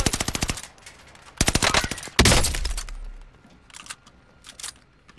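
Call of Duty Warzone gunfire rips out in close, loud automatic bursts: a rapid volley, a pause, another burst, then a heavy booming shot followed by scattered sharper single cracks fading off, with no voices.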